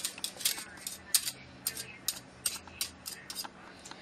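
A wire whisk scrapes and taps against a spoon while making a Mexican-style Thanksgiving turkey marinade, giving a quick run of sharp metallic clicks and scrapes at an uneven rhythm, close and fairly faint.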